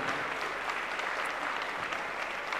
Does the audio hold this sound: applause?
yes